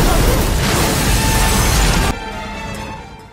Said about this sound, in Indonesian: selamat dari ledakan yang dibuat Gamble